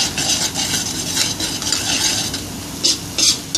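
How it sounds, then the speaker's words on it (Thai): Curry paste and coconut milk are stir-fried in a pan, with a continuous close scraping and stirring and a soft sizzle, plus a few sharper utensil scrapes near the end. "เขาก็ผัดพริกแกงให้เข้ากันกับกะทิ"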